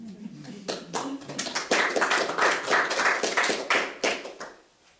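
Scattered clapping from a small audience at a poetry reading, a loose burst of distinct hand claps building and thinning over a few seconds, moderately close with a faint voice at the start.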